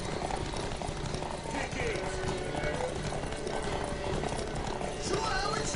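Horse galloping in the video game The Witcher 3, rapid hoofbeats running under a busy mix of game ambience and shouting, with a faint whinny-like sound near the end.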